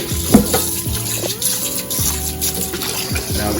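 Water runs steadily from a kitchen tap over raw chicken being rinsed before seasoning, a continuous close splashing flow with a few brief thuds and clatters of handling in a sink.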